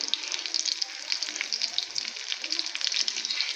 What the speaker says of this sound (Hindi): 1 मिनट अब दूसरी साइड से फ्राई होते हैं।